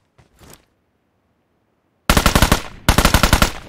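Machine gun fire in the mobile shooter PUBG Mobile: after a faint early burst and a pause, two loud, close, rapid automatic volleys rattle off, with a brief gap between them.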